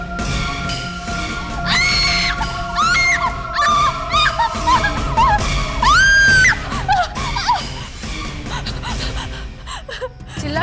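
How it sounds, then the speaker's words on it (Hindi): A woman screams in a horror drama scene at night over human bones, shrill wavering cries rising and falling in several loud bursts over a dark musical drone. "चिल्ला क्यों रही हो?"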